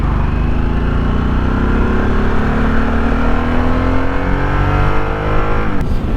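A 2023 Harley-Davidson Sportster S motorcycle runs while being ridden, its engine a loud, continuous drone that climbs steadily in pitch as it accelerates, then drops sharply near the end.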